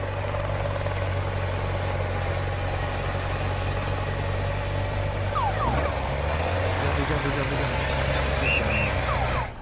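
A motorcycle engine drones steadily at close range as it climbs the Col de la Madeleine during a pro cycling race, a constant low mechanical hum with a rising pitch sweep near the end.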